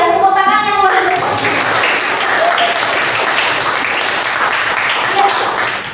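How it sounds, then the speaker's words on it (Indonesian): Loud, sustained applause from a crowd fills the whole clip, a few voices mixed in, fading slightly at the very end. "tepuk tangan yang luar biasa"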